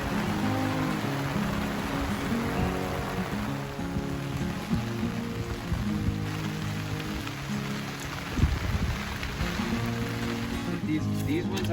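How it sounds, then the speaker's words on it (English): Steady, heavy rain falling on a rural property planted with tropical fruit trees, a continuous dense patter with no clear pauses. "then it turned into a big rain, then the rain kept going on and off for a while"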